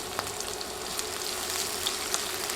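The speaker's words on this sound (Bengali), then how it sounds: "এখন নেড়ে নেড়ে পেঁয়াজ নরম হয়ে আসা পর্যন্ত ভেজে নিব।" Two sliced onions fry in hot oil with spices, giving a close, steady crackling sizzle with occasional pops, and no voices.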